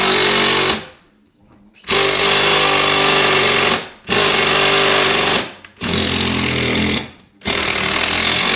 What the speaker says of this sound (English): Drills over here.